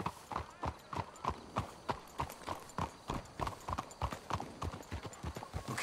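Horses' hooves clip-clop steadily on a path in Red Dead Redemption 2, a brisk, even walking rhythm of hard knocks from several horses, close and clear over quiet ambience.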